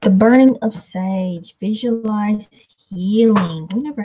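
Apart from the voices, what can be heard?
No distinct noise like a dog, phone or traffic.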